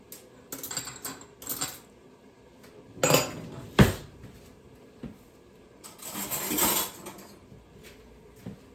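An iron skillet is handled just before going into a 400-degree oven, giving off metallic clanks and scrapes in scattered bursts with quiet gaps between them.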